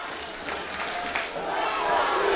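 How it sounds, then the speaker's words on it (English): Crowd at a college football game between the Everett Red Raiders and Eastside Bulldogs in the final seconds, a broad roar of cheering that builds louder toward the end as chanting starts. "the crowd getting into it in a big way"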